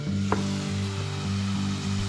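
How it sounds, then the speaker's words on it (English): Homemade French fries cooking in hot oil to be par-fried for freezing, giving a steady, even sizzle with a low continuous hum beneath it and no voices. "And then I'm frying these for about 5 minutes."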